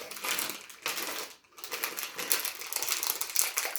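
A plastic packet of jelly beans being opened, crinkly crackling and tearing bursts with a brief pause in the middle, close and fairly loud, no talk.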